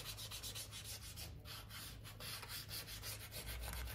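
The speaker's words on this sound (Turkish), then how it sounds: "Bastıra zımparalıyorsunuz." Light hand sanding on the surface of a 2023 Mondial Drift L motorcycle makes a steady, close rubbing rasp in quick, even back-and-forth strokes, with no talk over it.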